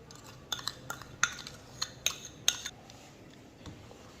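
A spoon or whisk clinks against a bowl while sugar is mixed into egg, a series of sharp separate taps spaced out over a quiet background.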